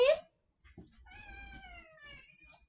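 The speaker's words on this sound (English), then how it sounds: "my cat has something to say" A pet cat lets out a long, clear meow that slides downward, close and loud after a brief sharp sound, with the room otherwise quiet.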